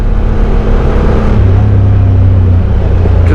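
A Honda Talon Live Valve side-by-side on Tusk 30-inch Megabite tires revs its engine loudly on a forest trail, a steady close drone that rises in pitch and swells partway through, with no talking.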